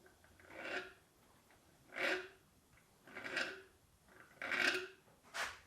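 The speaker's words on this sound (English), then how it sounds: "all I'm going to do is just run the file lightly across that outer edge" A small file runs lightly across the outer cutting edge of a mortiser bit, giving five soft, evenly spaced rasping strokes that are faint and close, with quiet gaps between them.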